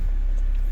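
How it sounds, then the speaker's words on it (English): A BMW E90 engine idles steadily after a fuel regulator and fuel pump replacement, a low continuous rumble heard alone in a short stretch with no talk. "The car is running, so everything is normal."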